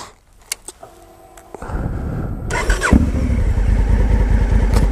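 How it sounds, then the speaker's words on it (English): A Honda Africa Twin motorcycle fires up after a few clicks and a whirring starter, then settles into a loud, steady close-up idle with no talking. "kick the bike in and we'll head back home"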